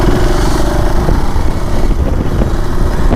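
A motorcycle engine runs steadily and loudly up close, a constant low rumble with wind noise and no clear revving.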